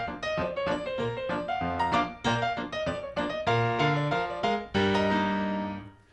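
Bouncy ragtime piano with crisp, detached notes and chords, each one cut short, playing a lively syncopated rhythm alone.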